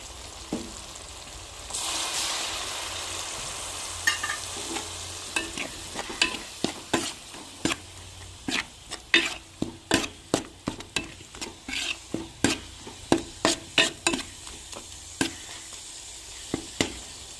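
Turmeric, chilli powder and curry masala frying in a pan for a fish curry, a low sizzle under frequent, regular spoon scrapes and clanks against the pan, close and fairly loud, with no talking.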